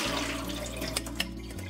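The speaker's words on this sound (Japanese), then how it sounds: "さっきのオクラを、塩が流れる程度にさっとだけ洗っておきます。" Okra being quickly rinsed under running water to wash off salt, a brief, close, steady gush of water from a tap with a couple of splashes.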